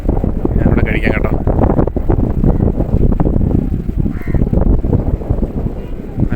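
Strong wind blowing across a backwater lake beside the Vechoor bund bridge, a loud continuous buffeting rush against the microphone, with a crow cawing faintly in the distance.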